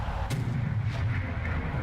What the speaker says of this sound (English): sonic booms as people are breaking through that barrier